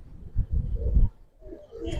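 A Giribaz pigeon gives low, soft cooing close by in two short bursts separated by a brief pause.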